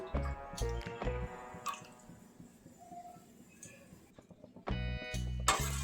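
One kilo of milk being poured into a wok for Bengali dudh puli pitha, heard as liquid splashes and drips with clinks of utensils, in uneven bursts that are loud at the start and again near the end.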